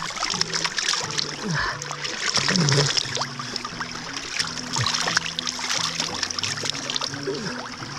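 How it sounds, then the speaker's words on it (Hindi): Water flowing down Brahmagiri mountain near Trimbakeshwar, Nashik, trickles and splashes close by, while someone talks over it throughout. "पानी देख रहे कहाँ जा रहा है,"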